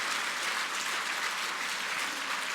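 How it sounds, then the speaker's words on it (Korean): Church congregation applauding during a Sunday sermon, a dense, steady wash of clapping that stays at an even level throughout, with no speech over it. "그냥 박수 한번 쳐줍시다"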